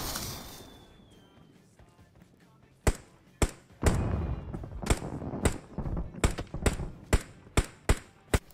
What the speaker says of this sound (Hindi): अब आतिशबाजी भी होती है और आवाज भी सुनाई देती है, बहुत ही बढ़िया।